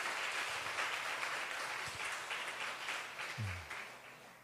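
A church congregation applauds together in a sustained, moderately loud wash of clapping that stays steady and fades slightly toward the end.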